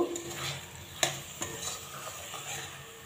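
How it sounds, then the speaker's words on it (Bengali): Soya chunks and garam masala stirred in a pan for a spinach soya curry, with a spoon scraping and clacking against the metal over a gentle sizzle, close by and with no talking. "এবার আমি একটু গরম মশলা গুঁড়ো দিলাম, আবারও খুব ভালোভাবে মিশিয়ে নেব।"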